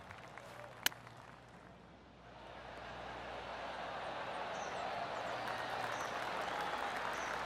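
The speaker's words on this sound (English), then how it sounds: "Oh, golf clap." Polite golf clap from a tournament gallery swells gently and continues steadily, preceded by a single sharp click.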